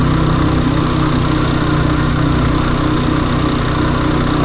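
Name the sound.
vehicle engine climbing steep slope in low gear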